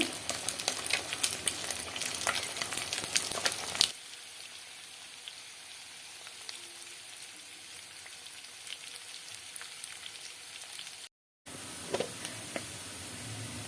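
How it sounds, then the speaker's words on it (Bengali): Loud, crackling sizzle of frying in hot oil for a few seconds, then a quieter steady sizzle continues after a brief cut. "মাছটা ভাজাভুজি করে নিচ্ছি"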